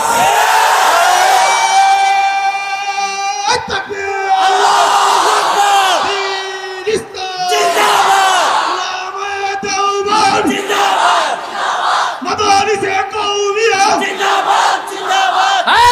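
A large crowd at a rally chants the slogan Allahu Akbar in loud, repeated rising shouts that swell and break off every few seconds, many voices together.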